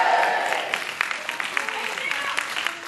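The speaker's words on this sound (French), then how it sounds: "Applaudissez bien fort" An audience at a school concert claps steadily, moderate applause from a crowd with scattered individual claps standing out, fairly distant and even throughout.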